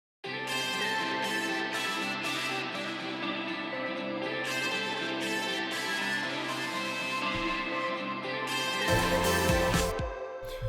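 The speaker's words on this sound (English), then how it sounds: "and then the whole electric guitar section sounds like this." Full layered electric guitar section of a band's song, several overdriven guitars playing together loudly and continuously, building to a heavier burst near the end, with no voices.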